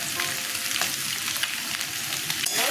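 Soybean chunks frying in hot oil with a little salt and turmeric, a close, steady crackling sizzle with faint stirring scrapes throughout and no voices.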